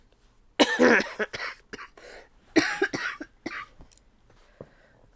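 A person sick with the flu and a very sore throat coughs in several harsh bursts, some sharp single coughs and some clustered, close to the microphone with short pauses between them, and one brief spoken word.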